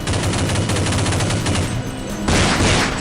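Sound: gunfire in the video game Counter-Strike

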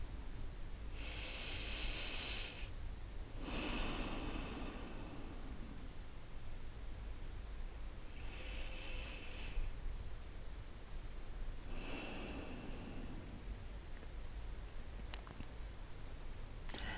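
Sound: deep breaths taken during a guided meditation

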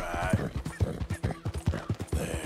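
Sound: horse hooves while riding, from a video game

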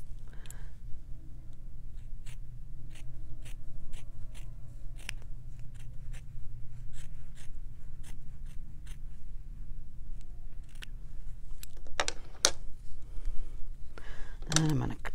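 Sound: scissors cutting fabric along a drawn line

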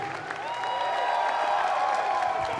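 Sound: audience applause

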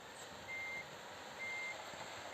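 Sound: reversing beeps of a Mercedes Actros truck in Truck Simulator Ultimate video game

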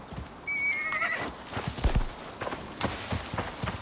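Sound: horse neighing and hooves in the video game Icarus

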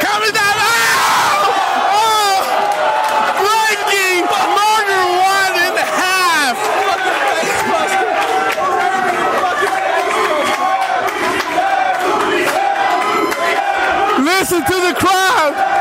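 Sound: wrestling crowd cheering and roaring

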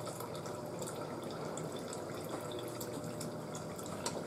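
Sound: Frigidaire refrigerator water dispenser sputtering with air

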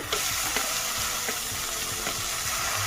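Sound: chopped tomato frying with onion in a pan

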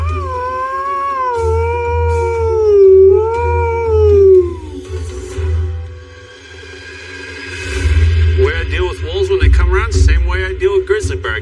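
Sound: wolf howling in Alaska wilderness

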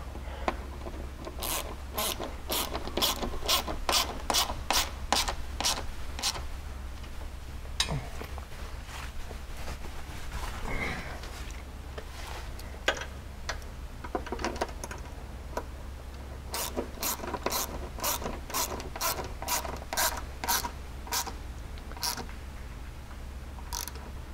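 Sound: tightening a nut with a 10mm wrench and socket

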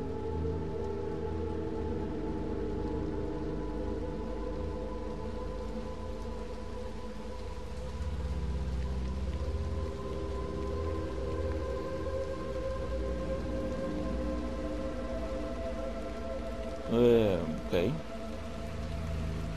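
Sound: heavy rain in a video game

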